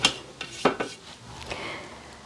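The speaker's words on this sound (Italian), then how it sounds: "Riunire sul fondo del boccale con la spatola." A spatula scraping dough down inside a Thermomix TM6 mixing bowl while making hazelnut shortcrust pastry, several quick scrapes and knocks against the bowl in the first second, then softer rubbing, close and without talk.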